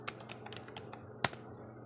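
A computer keyboard clatters under a few quick keystrokes, light evenly spaced clicks followed by one louder tap and a couple more, close and clear in a quiet room.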